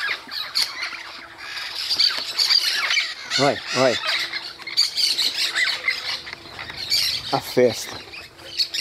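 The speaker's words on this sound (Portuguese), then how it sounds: "E tem papagaio, e tem periquito." Parrots and parakeets feeding in trees beside the São Lourenço River squawk in a dense, overlapping chorus of harsh calls, with a person talking quietly between them.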